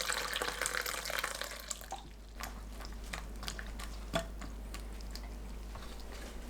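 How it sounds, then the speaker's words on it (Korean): Dried shiitake mushrooms are rinsed under water: a close tap stream rushes for about two seconds, then quieter wet sloshing and handling sounds follow with a few distinct splashes and drips. "건 표고버섯을 물에 헹굽니다."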